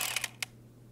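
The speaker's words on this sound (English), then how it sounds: "The drill kind of makes a clicking sound." A few quick mechanical clicks from a drill bit hitting rebar, close and sharp, over a low steady hum, then the clicking stops.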